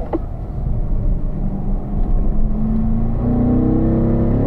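A Corvette engine hums along on a track, then its note climbs steadily as it accelerates hard at full throttle, loud and close.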